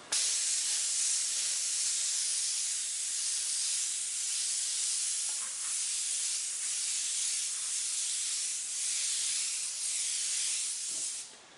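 A spray can hisses in a long, continuous blast, close and bright, with slight swells and a brief pause near the end.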